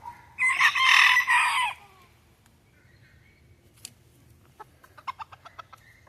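A flock of about eighteen bantam chickens: one rooster crows loudly and close, then softer scattered clucks and short calls follow in an uneven rhythm.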